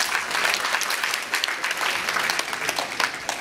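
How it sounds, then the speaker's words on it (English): A crowd applauds performers at a retirement celebration, thick continuous clapping from many hands at a steady level throughout, with a few sharper claps close by. "I would also like to encourage you to give them a round of applause."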